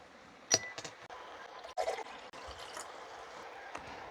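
About 250 ml of water trickles and pours into a pouch to mix an orange drink from a Chinese PLA Type 20 cold-zone ration, a quiet splashing pour with a few soft clinks and rustles.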